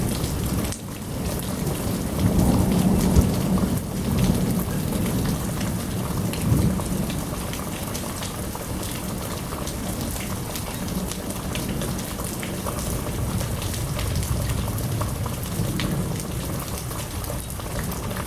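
Heavy Arizona summer monsoon thunderstorm with wind, a steady loud roar of rain on surfaces throughout and deep thunder rumbles swelling early on, no voices.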